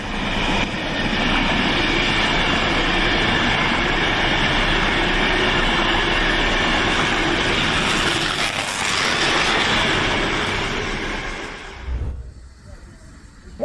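A train thunders along the rails through a freezing night in a loud, continuous rumble with faint clatter, then drops away abruptly near the end.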